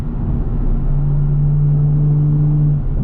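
A tuned 500hp BMW M340i with a downpipe hums along as it is driven, a steady low engine drone with a sustained tone and continuous road rumble from inside the cabin.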